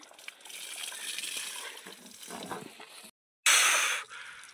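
Water pours to fill a drinking container for birds outdoors under a lemon tree, a steady splashing gush running for about three seconds. After a brief break a louder, closer rush of water follows and then cuts off.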